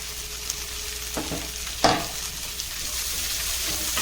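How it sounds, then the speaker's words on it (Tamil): Onion, green chili and thin-cut orange peel gently sautéing over low heat in a pan for narangi pulao, a soft continuous sizzle with a few light stirring clinks and scrapes, no talking. "இப்போ அனல் சன்னமாக போட்டு வதக்கிக்கோங்க"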